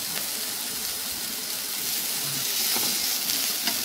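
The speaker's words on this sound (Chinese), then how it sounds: "我最喜欢这个滋滋啦啦的声音了" Meat sizzles on a hot pan with oil at a home barbecue and hotpot meal, a close, continuous crackling hiss that swells slightly toward the end.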